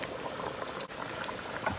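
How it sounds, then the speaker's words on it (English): A pot of Jamaican-style tripe and beans simmers, giving a steady close bubbling and gentle liquid burble with no voices. "I'm just gonna let this cook for like 3 to 5 minutes"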